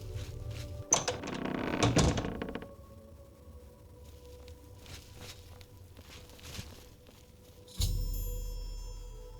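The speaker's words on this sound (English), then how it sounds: "I discovered the secret door Kilthane described" A hidden secret door in the video game The Elder Scrolls IV: Oblivion opens with a loud, rumbling scrape lasting over a second, then another heavy rumbling shift sounds near the end against a quiet ambient background.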